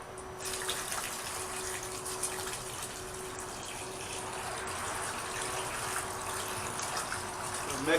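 Water gushes and swirls steadily as ash is stirred into it in a ditch to make mud for heat treating a cleaver blade, a continuous close sloshing with faint voice in the background.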